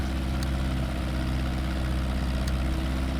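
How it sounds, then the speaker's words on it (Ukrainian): A video-game tractor engine idles with a loud, steady low rumble and rhythmic chugging, continuous and close, with no other sounds. "в тракторі ой як дуже голосно"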